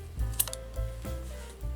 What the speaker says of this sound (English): I will put the scissors under the yarns and cut